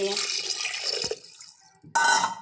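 About one and a half glasses of water pouring into a pressure cooker holding washed pork pieces for a spicy masala pork curry, a steady splashing rush that pauses briefly and then resumes loudly.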